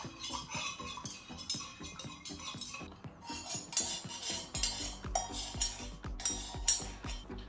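A tobacco vanilla candle mixture is stirred briskly in a container, a utensil clinking and scraping against the sides in quick, repeated strokes, close and steady with no voices.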